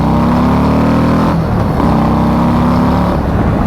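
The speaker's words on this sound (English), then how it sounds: "this bike just wants to go." A motorcycle engine roars loudly up close, revving and accelerating with a steady, throaty drone that shifts pitch midway.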